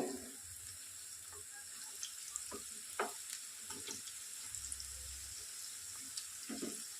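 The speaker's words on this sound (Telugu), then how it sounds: "ఒక 5 నిమిషాల తర్వాత ఇప్పుడు కదిలిద్దాము" Spinach pakoras frying in hot oil over a medium flame, a steady soft sizzle broken by occasional clinks and scrapes as they are stirred, close and quiet.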